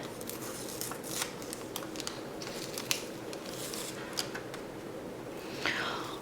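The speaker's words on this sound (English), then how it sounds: "Okay, and so then we are just going to peel up our tape." Transfer tape being peeled up from a Cricut design on a T-shirt, a steady close crackling and sticky rasp with scattered small snaps, ending in a brief louder rip, no talking.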